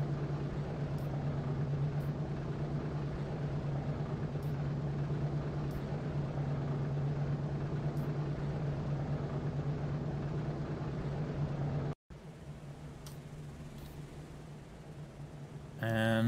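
A B-17 bomber in the flight sim B-17 The Mighty Eighth, its engines holding a steady loud drone at a low hum, then a brief cut and a continued roar as it begins the takeoff run.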